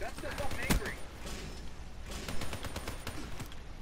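A single sharp gunshot cracks out loudly near the start, followed by scattered fainter pops, with background movement and noise filling the rest of the short stretch.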